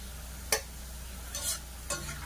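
Onions frying in a small amount of oil for prawn kachha biryani, a soft steady sizzle with three sharp scrapes of a spoon stirring the pan, close and fairly quiet.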